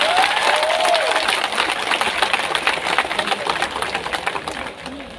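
Dense crowd applause at an outdoor political gathering for an Aam Aadmi Party MP, many hands clapping rapidly and fairly close, fading slightly toward the end.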